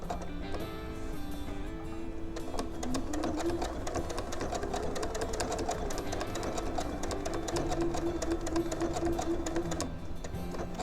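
A sewing machine stitches a Dresden plate wall hanging in fabric, running continuously up close with a fast, even mechanical whir and rapid needle clatter throughout, with no speech.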